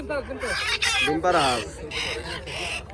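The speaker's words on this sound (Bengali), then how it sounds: "দেখেন মুরগি" Chickens clucking and squawking at a busy riverside morning market, with people talking over and around the bird calls throughout.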